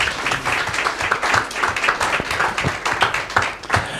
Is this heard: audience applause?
yes